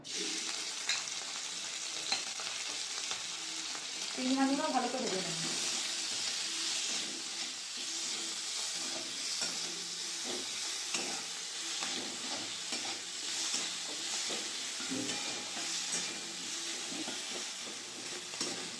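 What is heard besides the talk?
shrimp frying in oil in a wok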